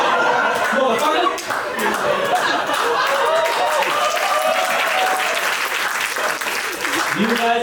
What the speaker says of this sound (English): You guys are clapping because that was hard to memorize.